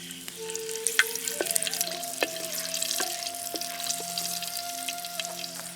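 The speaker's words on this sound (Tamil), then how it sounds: "எண்ணெய் நல்லா காஞ்சதும் கொஞ்சம் பச்சை மிளகாயை சேர்த்துக்கலாம்" Green chillies frying in hot groundnut oil in a pan, a steady close crackling sizzle with occasional sharp pops and spits, and no talking.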